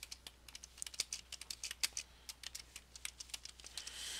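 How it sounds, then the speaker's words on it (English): Text being typed on a computer keyboard, a quick run of light, close key clicks in an uneven rhythm, alone and fairly quiet. "I can just type the text in."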